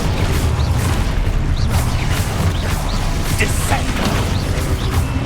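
A Depulso spell effect in Hogwarts Legacy gives off a steady, loud rumbling clatter of crashes and impacts, dense and continuous, with scattered sharper hits across the stretch.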